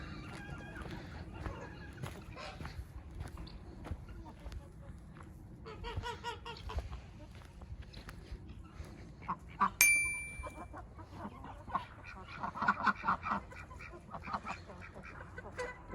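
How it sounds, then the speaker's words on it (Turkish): Ducks quacking and geese honking in a noisy poultry yard, scattered calls near and far, with a brief metallic ding partway through. "Vakvaklarımız var."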